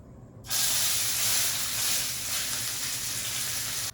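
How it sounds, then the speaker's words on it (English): Pork tenderloin searing in a pan over medium-high heat, a loud, close, steady sizzle and hiss that bursts in suddenly and holds with little change. "we're going to give it a really good sear over medium-high heat"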